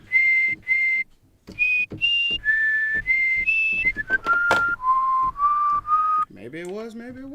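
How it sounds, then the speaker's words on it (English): A person whistles a melody alone and close up, a series of clear sustained notes in short phrases stepping up and down, ending with a rising glide. "I didn't whistle in the key of C."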